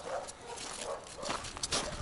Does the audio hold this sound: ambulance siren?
no